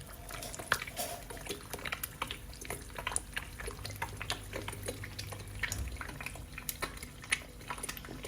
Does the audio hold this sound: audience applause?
no